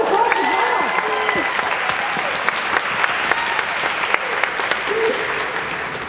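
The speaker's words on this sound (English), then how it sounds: "A round of applause for" Wedding guests applaud loudly in a room, brisk clapping with cheers and raised voices threaded through, a few sharp individual claps standing out over several seconds.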